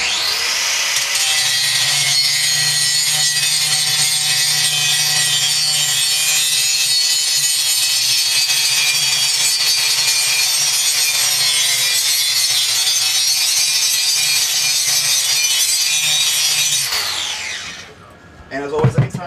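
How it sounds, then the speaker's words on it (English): Power grinder working on metal, a loud, steady high-pitched grinding whine sustained for about seventeen seconds before stopping abruptly, followed by a few clanks. "what would normally take about a minute to grind takes about 30 seconds for us"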